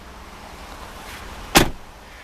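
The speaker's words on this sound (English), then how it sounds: "Both the driver and passenger windows are automatic in both directions." A power window moving on a 2014 Jeep Cherokee Limited V6, a brief motor whir ending in a sharp thump as the glass seats, over a quiet background hum.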